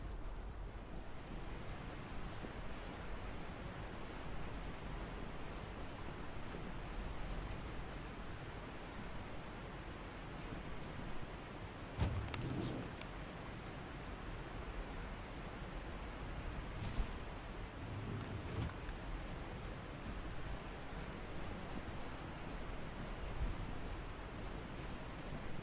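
Steady broadband roar of falling water from a small local waterfall, continuous and fairly loud, with a few brief knocks and thumps breaking through around the middle.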